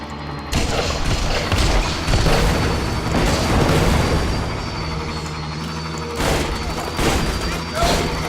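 Explosions go off one after another in the video game Borderlands 2, a dense, loud run of booms and bursts with gunfire mixed in, sustained for several seconds over game music and effects.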